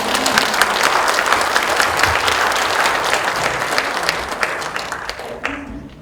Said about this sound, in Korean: 국장님께 힘 실어드린다는 의미로 큰 박수를 한번 드리는 게 좋겠습니다